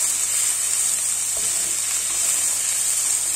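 Pork cheek searing and browning in a hot pan gives a loud, steady, continuous sizzle with no break from start to finish.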